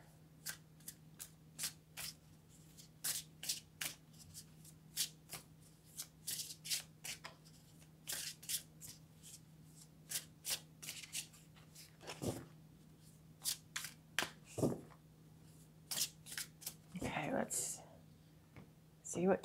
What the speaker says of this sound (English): And then I'm going to pick an oracle card